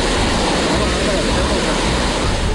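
Floodwater rushes from streams and drains that have broken their banks into residential areas after heavy rain and storms, a loud, unbroken roar of churning water that fills the whole stretch.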